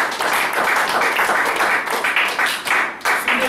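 Church congregation clapping in bursts during a French-language sermon, rhythmic applause with short gaps, close and fairly loud.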